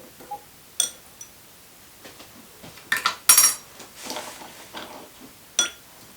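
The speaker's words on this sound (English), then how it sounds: "Give it a little bit of a stir." A spoon stirs a cocktail with crème de menthe in a glass, giving a handful of bright, sharp clinks scattered irregularly, close and crisp against near silence, with no talking.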